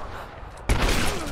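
Gunfire breaks out in the action game Rise of the Tomb Raider as a sudden dense volley of rifle shots. It cuts in halfway after quieter ambience and continues loud and rapid to the end.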